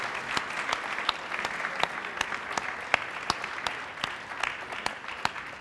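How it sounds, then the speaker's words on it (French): Audience applauding prize winners at a CNRD award ceremony, steady clapping from a modest crowd with sharp individual claps standing out through the whole stretch, alone without talk. "Nous vous applaudissons."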